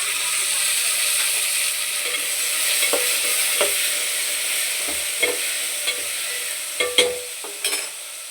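Finely chopped tomato hits hot frying chillies in a pan, giving a steady close sizzle with intermittent scraping stirs and clinks growing more frequent toward the end.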